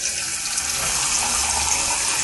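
Strong, high-pressure tap water streams steadily through a faucet flow reducer, a continuous broadband hiss with no pauses and no voices.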